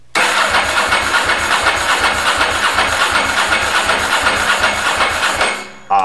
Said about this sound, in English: Let's crank it and watch that oil light now.